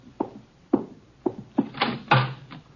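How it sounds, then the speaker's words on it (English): Knocking on a door at a formal evening gathering: sharp knocks with short pauses, ending in a heavier thump, fairly close, with no voices. "Archie, the door, our guests are arriving."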